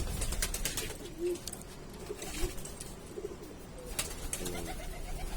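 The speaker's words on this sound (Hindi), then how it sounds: "इमरान भाई ये जो कबूतर आपके पास ये जो गूंज रहा है" Rampuri pigeons in a loft cooing in repeated soft, low bursts, close by, with some rustling and flutter between calls.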